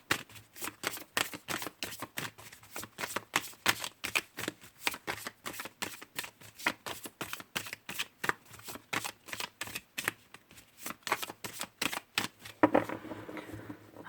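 Tarot cards being shuffled and drawn, a long steady run of crisp rapid riffling flicks, close and fairly quiet, with no voice over it.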